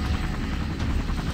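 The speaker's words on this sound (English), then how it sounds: "Hold the helicopter." A helicopter in the Minecraft video game lands during a rescue mission, its loud, steady rotor chop and engine roar filling the short clip with constant low thumping.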